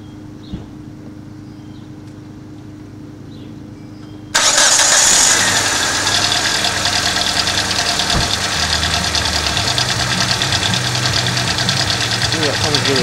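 Hyundai Tiburon with a 1.8 liter engine and exhaust headers, quiet at first, then the engine cranks and catches abruptly into a loud, rough idle with a ticking, knocking note; a voice speaks briefly.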